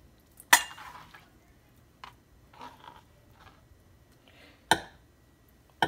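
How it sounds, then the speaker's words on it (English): Pieces of fish, cod or mahi mahi, go into a bowl for a fish and napa cabbage congee, giving a few sharp clinks and light scraping knocks spread across a quiet kitchen. "So then I'm just gonna put it in a bowl."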